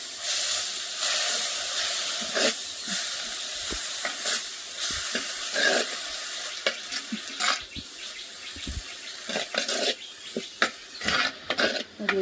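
Spinach greens fry in a pan with a steady broadband sizzle, broken by repeated scraping stirs and soft clinks throughout, loud and close with no talking.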